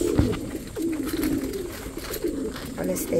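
Hobby pigeons in a flock coo nearby in low repeated calls, with a voice talking over them.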